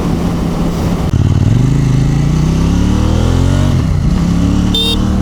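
A KTM 790 motorcycle engine runs loud and close, a steady throaty drone that climbs in pitch as it revs and then settles, with a brief high electronic tone near the end.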